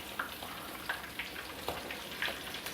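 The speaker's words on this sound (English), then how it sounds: "we're just going to keep frying these until they're a nice golden brown" Pork tenderloins frying in hot oil give a quiet, steady sizzle with scattered soft pops and crackles.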